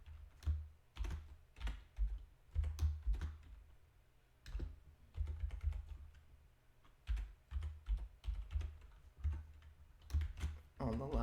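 Fingers type on a computer keyboard in quick, uneven bursts of clicking keystrokes with brief pauses between runs. The typing is close and clear, with no voice over it.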